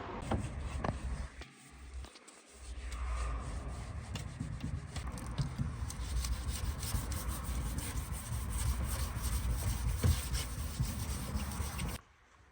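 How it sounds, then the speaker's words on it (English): Continuous abrasive rubbing from sanding a Subaru rally car door, a steady scratchy hiss with a brief pause early on, fairly close and unbroken by talk. "So as you can see there, Alex is just sanding that door off."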